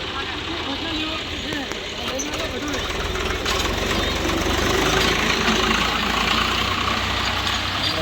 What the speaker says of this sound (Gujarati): ટ્રેક્ટર બધા ચાલુ થઈ ગયા છે સિત્તેરથી એંસી એંસી ટ્રેક્ટર છે